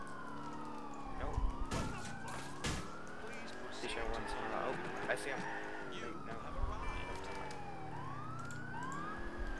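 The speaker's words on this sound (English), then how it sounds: "Kill your siren." A police car siren wails in the GTA IV LCPDFR driving game, rising and falling continuously over engine and crash noises, with players talking throughout.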